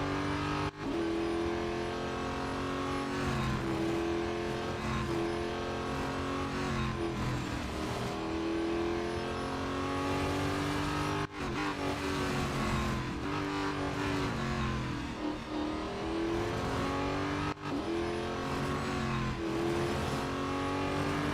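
Race car engine in Real Racing 3 screaming at high revs through a lap, a loud continuous whine rising and falling with brief dips at gear changes.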